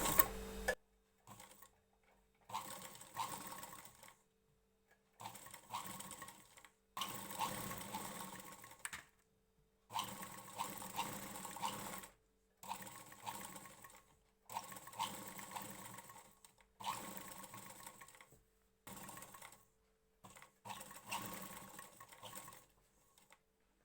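A sewing machine stitches a blouse lining in repeated short runs, each a few seconds of steady mechanical chatter separated by brief silences, close and moderately quiet.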